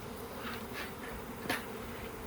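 A honeybee swarm fans and buzzes inside a can and a box, making a dense, continuous hum with no pauses, heard fairly close and steady throughout.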